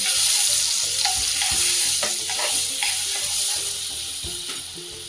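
Butter melts into hot oil in a pan, giving a steady, close sizzle broken by light stirring scrapes and soft clicks, gradually easing slightly in loudness, with no one speaking.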